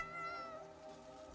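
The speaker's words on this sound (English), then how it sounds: "Oh, a kitty." A cat in the video game Crimson Desert gives a faint, drawn-out meow, heard alone and quietly for about a second.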